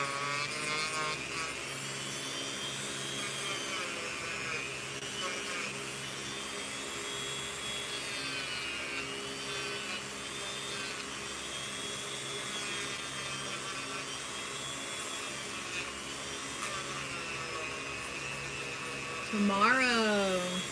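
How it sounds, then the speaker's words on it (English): A Dremel rotary tool spins on a screw for soldered jewelry finishing, making a steady high whine with harmonic bands and background chatter throughout, then a brief pitch shift near the end. "I hold the screw at the top and then I turn my Dremel on a little bit"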